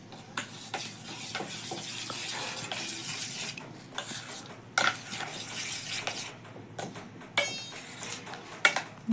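Dhokla batter stirred steadily in one direction inside a metal vessel, giving a run of scraping clinks and soft sloshing strokes at close range with no talk.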